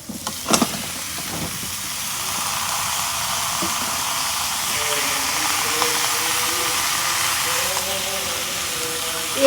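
Squash pieces sizzle and fry in hot spiced oil in a pan, a steady broad hiss lasting throughout with a few clatters at the start as they go in; quiet talk may sit faintly under it.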